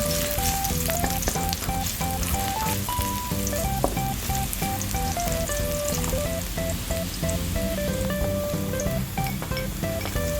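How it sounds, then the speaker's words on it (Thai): Shiitake mushrooms stir-fry in hot oil, a steady even sizzle running through the whole stretch beneath a louder melodic background music track, with no one talking. "เดี๋ยวรอให้น้ำมันร้อนค่ะ เราก็จะเอาเห็ดหอมลงไปค่ะ ผัดเห็ดหอมให้หอมเลยนะคะ"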